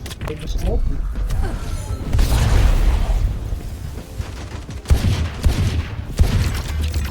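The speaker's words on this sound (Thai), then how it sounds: "เราจะมาลองเล่นปืนที่เราแบบเคยจะยิงไม่เคยจะโดนอ่ะก็คือปืนนี้ไอเชอร์ลิปเนี่ย" Sheriff pistol shots in the Valorant video game ring out in several sharp, loud single cracks spread through the clip, over busy game noise and someone talking.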